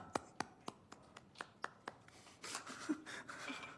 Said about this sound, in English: there was a round of applause